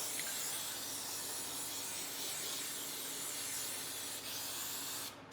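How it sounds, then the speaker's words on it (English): Cooking spray hisses steadily into a Bundt cake pan in one continuous, even burst lasting about five seconds, close and alone, then stops abruptly. "always tilt your pan so the spray goes into the pan and not the floor"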